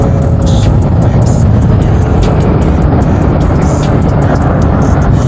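A vehicle passing on a road during a Yamaha NMAX 155 scooter top-speed run, with loud broadband road and wind roar that stays steady and close throughout, with no talking.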